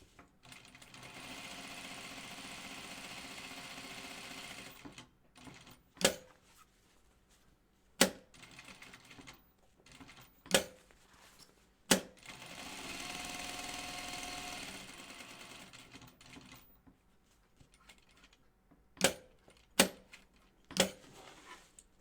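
Loud domestic sewing machine stitching around a welt on a vest, running in two long sustained bursts with a steady motor whir, separated by sharp clicks and knocks from handling and adjusting the machine.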